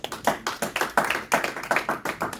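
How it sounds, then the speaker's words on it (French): A church congregation clapping in steady rhythmic unison, crisp sharp claps repeating about every quarter second, close and clear with no talking. "Acclamons la parole de Dieu."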